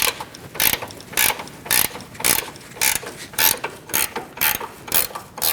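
Ratchet wrench working a control arm bolt on a 2016–2019 Chevrolet Cruze: close, rhythmic bursts of ratcheting clicks, about a dozen strokes at a steady pace, with no talking.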